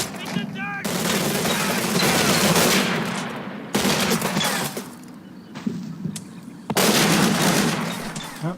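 Thompson submachine guns in a tactical wargame crackle in dense, overlapping bursts of automatic fire, continuous and layered with street-fighting battle noise, pausing briefly before renewed volleys.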